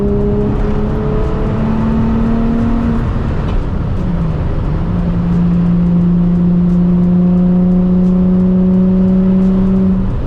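Engine of a Nissan 350Z heard from inside while driving, a loud steady drone that rises in pitch as the car accelerates through the gears, continuous throughout with no talking.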